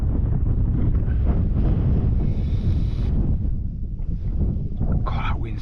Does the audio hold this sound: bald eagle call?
no